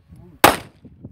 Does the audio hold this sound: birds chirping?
no